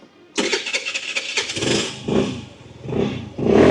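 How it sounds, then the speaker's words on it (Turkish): A 50cc motorcycle with a stalling problem, its small engine catching and running with a buzzy, uneven idle that rises and dips in loudness, heard close up without talk. "Bakın rolanti de gayet güzel sayıyor"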